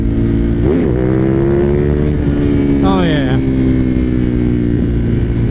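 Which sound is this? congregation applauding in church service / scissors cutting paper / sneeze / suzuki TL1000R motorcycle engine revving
suzuki TL1000R motorcycle engine revving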